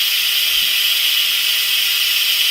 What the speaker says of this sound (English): we don't want the steam going anywhere near the cabinet